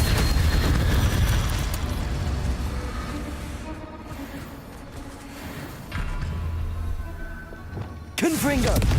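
A fiery spell blast from the Incendio charm in Hogwarts Legacy during a wand battle against Rookwood, a loud roaring burst that fades over several seconds before a second sharp burst hits near the end.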